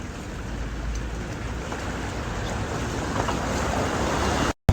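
Heavy rain pours over a flooded street in Jeddah, a dense, continuous rush of falling and running water close by, with wind buffeting the microphone and no talking.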